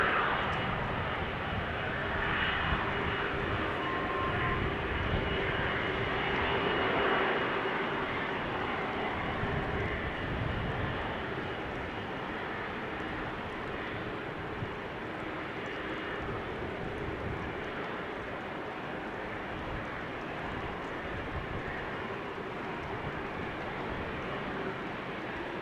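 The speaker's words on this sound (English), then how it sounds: "Now, Chinese triple is approaching." A Chinese airline Boeing 777 approaches Amsterdam Schiphol Airport with a sustained, moderately distant jet roar that holds steady and slowly eases off across the whole span.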